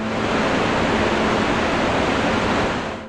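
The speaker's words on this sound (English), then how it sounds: "A waterfall twice as tall as Niagara and miles wide." Iguazu waterfall, twice as tall as Niagara and miles wide, roars as a steady, dense wall of rushing water, loud and unbroken throughout.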